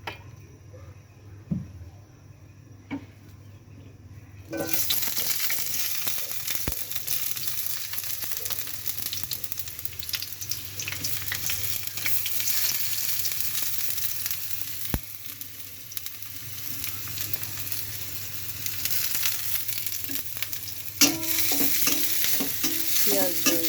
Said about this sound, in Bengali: কলিজাটা তেলে রান্না করব